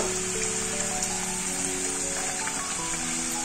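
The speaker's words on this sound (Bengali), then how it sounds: "কম আঁচে লাল লাল করে ভেজে নেব।" Layered khaja pastries deep frying in oil over a low flame, a dense, even crackling sizzle that runs unbroken and fairly loud from start to finish, with no voices.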